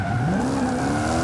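Tires squeal and skid during a car burnout in the racing game Forza Horizon 5, a steady, loud screech whose pitch slowly climbs over engine roar, with no talking.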